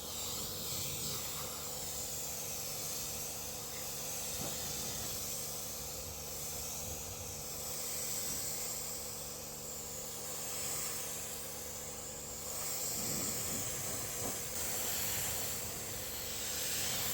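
Steady hissing water spray rinsing a Porsche 911 Carrera during detailing, a continuous close wash of spray with slight swells and no talking.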